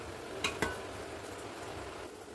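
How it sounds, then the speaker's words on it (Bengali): Potato pieces dropped one at a time into a pot of chicken biryani: two quick, soft knocks close together over a faint, steady sizzle. "এবার আলুগুলো এক এক করে সব দিয়ে নেবো।"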